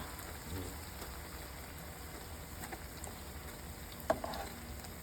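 A steady, faint sizzle of tortilla chips frying in very hot vegetable oil near 400 degrees, a continuous crackling hiss with occasional small pops and one sharper crackle near the end, no voices.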